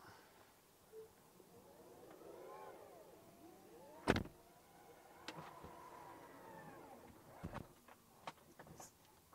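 A car's electric windows and roof closing from inside, motors whirring in rising and falling sweeps, with a sharp thump near the middle and a few light clicks toward the end.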